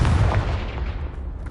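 A Confringo fire spell bursts in Hogwarts Legacy, a deep booming blast that hits loud and close, then rumbles away over about a second with no speech.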